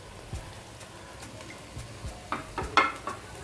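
Mutton mince frying in oil with transparent onions in a pan gives a low sizzle, broken by a series of scraping stirs and soft clinks from a utensil that grow a little louder toward the end.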